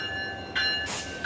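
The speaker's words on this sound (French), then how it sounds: "Le tortillard et ses wagons des années 60 entrent enfin en gare." An old local train with 1960s wagons pulls into a station with a steady high tonal whine, then a short hiss of air and a metallic screech as it slows, moderately faint.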